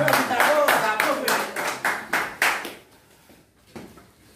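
A group claps in homage to Alfredo Zitarrosa during a game-show style segment, a short burst of fairly close, rhythmic claps that thins out and fades to scattered taps near the end.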